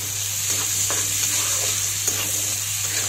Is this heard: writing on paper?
no